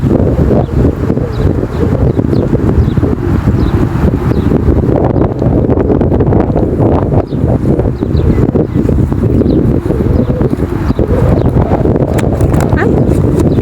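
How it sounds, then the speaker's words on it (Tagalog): Wind buffets the microphone continuously in an outdoor park, a loud, dense rumble that persists throughout, with voices and faint background activity mixed underneath. "Hangin."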